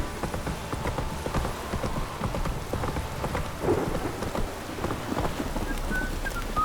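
A horse galloping in The Witcher video game, rapid hoofbeats clip-clopping steadily through a rainy thunderstorm backdrop, moderately loud without speech.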